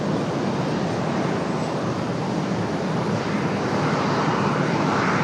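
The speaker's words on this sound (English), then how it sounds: "the American 777 still getting ready to go." An American Boeing 777 readies for departure at Raleigh-Durham airport, its jet engines giving a loud, steady broadband roar that stays constant throughout the short stretch, with no talking.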